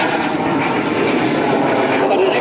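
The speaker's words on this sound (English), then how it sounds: "Aircraft originally designed as a trainer, a jet trainer obviously" Jet trainer aircraft at an airshow, also flown by the Belgian Red Devils aerobatic team, passing with a loud, continuous broadband engine roar that holds steady throughout.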